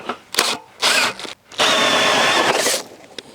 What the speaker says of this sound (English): So drill one of these holes.